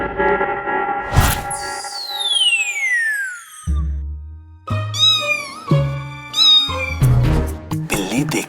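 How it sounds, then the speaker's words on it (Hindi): A snooty cat meows in a cartoon household, several drawn-out meows in quick succession, loud and close, mixed with bright music and a long descending whistle-like sweep. "लगता है वो नकचड़ी बिल्ली आज फिर आ गई है"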